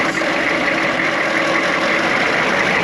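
A 1995 6.5L turbo diesel engine, low on coolant, idles roughly up close, a loud, continuous rumble with an uneven, slightly rough texture throughout.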